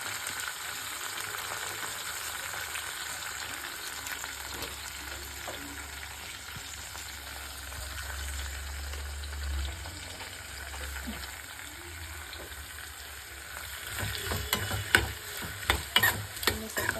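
Food with chili powder fries in a hot pan, giving a steady, close sizzle throughout, with a few scraping stirs and clinks of a utensil against the pan near the end.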